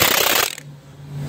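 A Milwaukee M18 1/2-inch impact gun hammers in a rapid, loud rattle on an impact socket, then cuts off abruptly as the socket breaks, leaving only a faint low hum.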